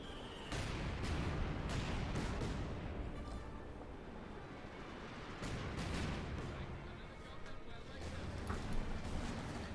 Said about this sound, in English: We got artillery called in as well here to prevent Xiaya from moving ahead.